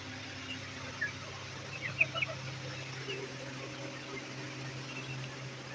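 Chickens and roosters in a village yard, giving a few faint, scattered clucks and short calls at a distance over a steady low hum of background noise.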